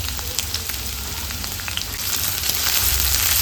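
Chopped garlic and ginger fry in hot oil on a low flame for egg chilli, a dense, close crackling sizzle with scattered pops that grows slightly louder midway.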